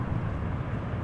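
An EasyJet airliner on approach to Amsterdam Schiphol gives a brief, steady low rumble of engine noise.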